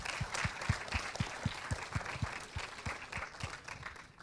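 At a live event in a Lorient cinema, faint applause from the audience sits under a steady run of soft, rhythmic thumps that keep an even beat throughout.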